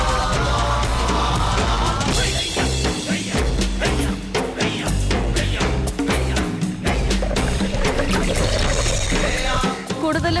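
Choppy sea water slaps and splashes around a glass-bottom boat off the Maldives, with irregular bursts of sloshing and spray continuing steadily throughout, close and moderately loud.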